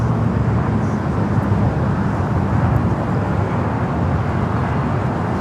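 A Polar Air Cargo freighter at Los Angeles International Airport gives a steady, loud broadband engine roar that holds evenly throughout, with no voices heard.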